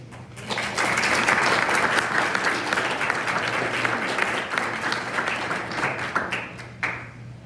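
An audience at a Capitol Hill briefing applauds steadily with dense, sustained clapping that holds for several seconds before tapering off near the end.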